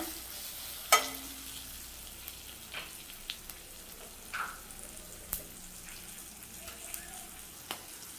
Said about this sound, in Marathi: मिरच्या मस्त परतून झाल्या